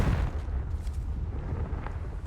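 A Confringo fire spell explodes in the video game Hogwarts Legacy: a dense, rumbling blast with a heavy low boom at the start, then a sustained roaring crackle that stays loud and close for a couple of seconds.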